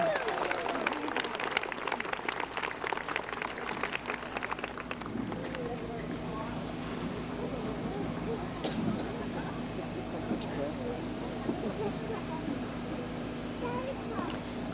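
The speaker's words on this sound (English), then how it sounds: "Let's give them another round of applause, please." A school audience claps for a graduating sixth-grade class at the end of a performance, giving sustained applause that is loud at first and thins out. Some crowd chatter sits beneath it.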